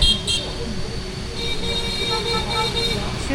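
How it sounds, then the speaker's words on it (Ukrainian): Car horns toot repeatedly at a busy intersection in Vietnam over a dense, constant roar of nearby traffic and engines. "Вони отак несуться, не збавляючи швидкість, просто сигналять."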